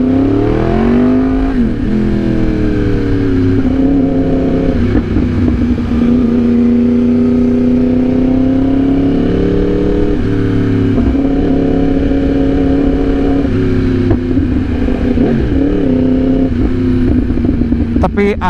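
A Yamaha R1 sport bike's crossplane four-cylinder engine, fitted with a loud open funnel-style exhaust, revs close by in rising and falling blips over a strong, buzzy idle that fills the whole stretch.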